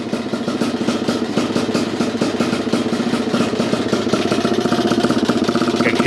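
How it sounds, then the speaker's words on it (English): A 2021.5 GPX Moto TSE250R motorcycle engine with a Keihin PWK 38 carburetor and JD jet kit idles without choke, a steady, rapid chugging rhythm, close and continuous throughout. "So no choke, started. It's idling."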